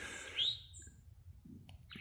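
A towhee gives short, high chirping calls in a snowy North Carolina setting, faint and at a distance, with a quiet pause between calls.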